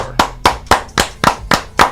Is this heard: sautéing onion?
no